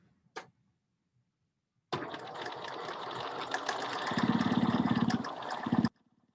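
A sewing machine stitches fabric in one continuous run of about four seconds, a fast, steady mechanical whirring close by that speeds up slightly toward the end, preceded by a single brief click and quiet pauses.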